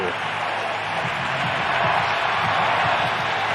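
Stadium crowd roaring at a San Francisco 49ers NFL game, a dense sustained wash of cheering and noise that swells slightly, with a commentator's voice faintly underneath.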